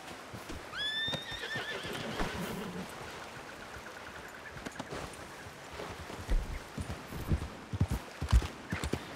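Horse in the Red Dead Redemption game (RedM roleplay) gives a clear whinny near the start, followed by a steady run of hoof clip-clops over a noisy outdoor bed that grows more prominent toward the end.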